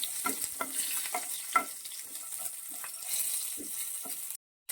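Shallots sauté in a frying pan for a dried-fish chutney, giving a steady close sizzle broken by short stirring scrapes, with a brief silence near the end.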